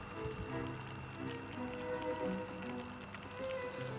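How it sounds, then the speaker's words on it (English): Water trickling and dripping steadily through a DIY vertical wall garden fed by drip irrigation at eight liters per hour, a soft continuous patter of drops seeping down to the lower plants, with faint musical tones in the background. "the water seeps down beautifully to all the lower plants"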